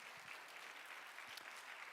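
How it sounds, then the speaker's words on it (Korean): A church youth congregation at a Korean worship service claps together in mutual encouragement, a brief burst of dense, even applause at fairly low volume, steady from start to finish with no talk over it. "한번 서로를 격려하는 마음으로 힘차게 박수 한번 드렸으면 좋겠습니다"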